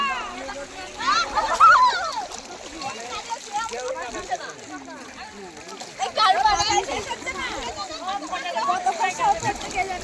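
Water splashes and sloshes as people bathe in the Ganges during Kali Puja, close and continuous, beneath steady chatter from adults and a child.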